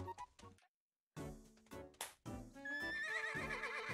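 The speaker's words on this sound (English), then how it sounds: "We got ourselves a horse!" A horse in the video game Miitopia neighs, a bright rising whinny that comes in after a short silence and a burst of game sounds, loud and clear over busy game music.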